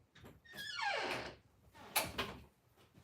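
A door is opened indoors with a drawn-out sliding, scraping sweep followed by a couple of sharper knocks and bumps, fairly quiet, with no speech.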